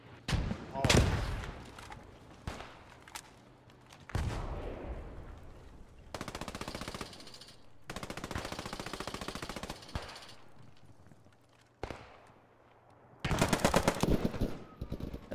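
Gunfire in the video game Post Scriptum, during a battle to retake Sainte-Mère-Église: loud rifle cracks and sustained machine-gun bursts, some close and some farther off, separated by quieter gaps.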